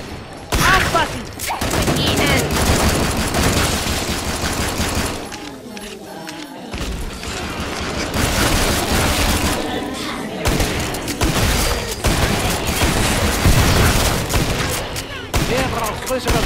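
Bursts of rapid gunfire and heavy thuds in the video game Killing Floor 2 on the Farmhouse map, loud and nearly continuous, with brief lulls between volleys.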